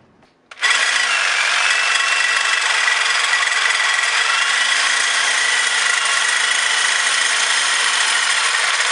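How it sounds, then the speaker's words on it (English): A power tool cuts through a metal turbo support bracket with a harsh, continuous high-pitched whine that starts abruptly and holds steady and loud throughout. "Cutting the second leg of the bracket now."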